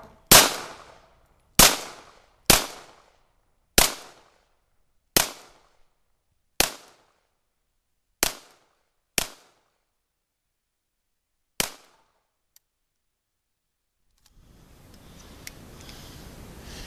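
A Cobray M11 submachine gun is test fired in about nine loud, separate shots, each a sharp crack with a quick decaying echo, spaced one to two seconds apart, then a low rustling noise follows.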